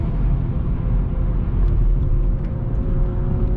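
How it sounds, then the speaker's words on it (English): Car driving on the Nürburgring with a strong, steady engine drone and road rumble heard from inside the cabin, loud and continuous with no clear rise in revs. "Now you can put as much throttle as you feel like."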